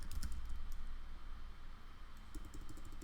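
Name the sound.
typing on a computer keyboard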